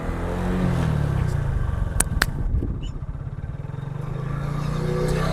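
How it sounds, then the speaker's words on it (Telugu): Motorbike engine running steadily with low, continuous rumble, throttle blips and revving swells, a few sharp metallic clicks near the middle, heard without speech. "బ్యాక్గ్రౌండ్లో మనకి బైక్ రన్నింగ్ అనేది ఉంది. బైక్ అనేది యాక్సిలరేటర్ ఇస్తున్నాను"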